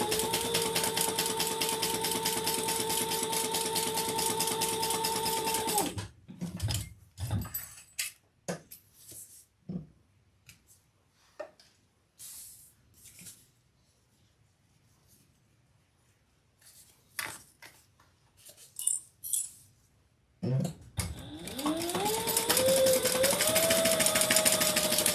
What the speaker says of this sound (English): Gonna top stitch 1/8 of an inch